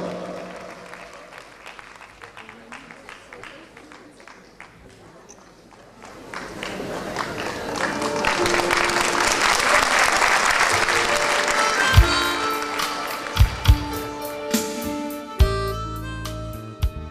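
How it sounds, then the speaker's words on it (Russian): Audience applause greets a singer at a concert, starting moderately and swelling into loud, sustained clapping from about six seconds, with music and sharp accents entering near the end. "Под ваши громкие аплодисменты встречаем"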